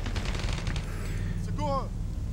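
Dense, continuous gunfire with heavy explosive blasts from the PS2 video game Fugitive Hunter: War on Terror, loud and unbroken throughout, with a brief voice-like call rising over the din near the end.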